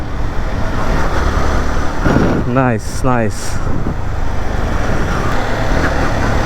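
A Yamaha R15M motorcycle rides along the Rangamati to Kaptai road in Bangladesh, a constant loud rush of engine and wind noise with a rider's short exclamations briefly heard over it.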